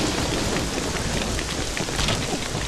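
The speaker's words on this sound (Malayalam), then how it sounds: "എന്തൊരു മഴ!" Heavy rain pours down in a dense, steady roar, loud and continuous with no pauses and no voices.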